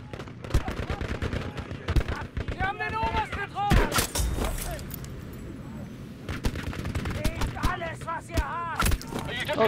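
Rapid bursts of video game gunfire crackle through a shootout, with dense automatic volleys and sharp single shots close up, mixed under excited voices talking throughout.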